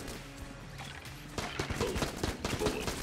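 Gunfire in the video game Enter the Gungeon, a rapid, uneven burst of shots that starts after a quiet moment and keeps crackling in dense clusters to the end.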